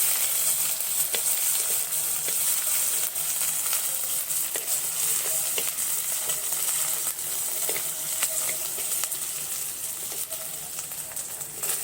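Green chillies and curry leaves fry in oil in a clay pot for a village-style mutton dish, a steady close hiss and crackle with occasional stirring clinks and no talking.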